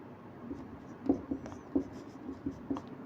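Marker or chalk strokes on a lecture board during an engineering class, a series of short scratchy writing bursts in uneven rhythm, close and fairly quiet, with no talking.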